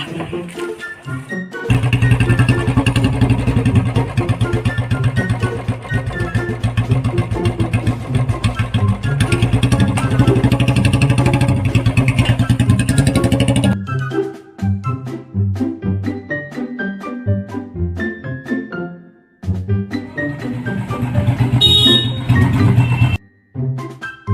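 Royal Enfield Bullet motorcycle engine running loud and steady close by, with a deep throbbing idle. The sound drops and becomes choppier partway through, then rises again near the end.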